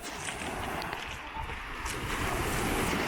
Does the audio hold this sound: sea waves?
yes